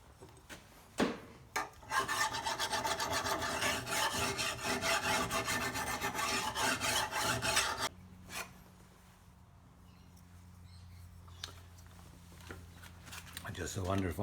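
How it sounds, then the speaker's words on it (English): Steady abrasive rubbing on the cutter bar of a Stihl 009L chainsaw that won't start, a continuous close rasping stroke lasting several seconds before stopping, followed by quieter handling and a low hum. "I might just clean that cutter bar up a little bit and knock that off"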